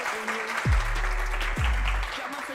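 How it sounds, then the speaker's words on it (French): Studio audience applause for a comedy show, a continuous wash of clapping with two deep thumping booms layered over it. "Applaudissez s'il vous plaît"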